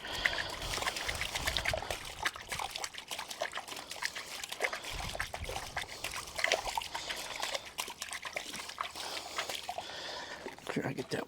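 Water washes and trickles steadily through a Gold Cube and Keene hopper tray while gold is being tested, a continuous splashing stream heard up close with a voice talking over it.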